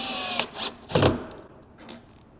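A power driver drives screws into a cabinet box in a few short whirring bursts, one louder and longer than the others, close by and fading into quiet near the end.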